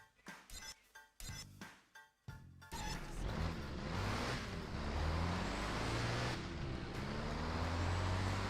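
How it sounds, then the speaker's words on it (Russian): A bus engine in the video game Driver San Francisco starts up after a few clicking menu sounds, then settles into a continuous low engine rumble mixed with road and traffic noise, with no voices. "Мотор, звук мотора. Добавим звук мотора."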